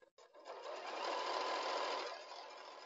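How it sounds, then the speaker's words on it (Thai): Sewing machine stitching a foam shoulder pad, a close, steady motor whir that builds up after a brief start and runs continuously for a couple of seconds, then eases off slightly, with no talking. "เสร็จแล้วเราก็เย็บรอบที่สองเหมือนเดิม"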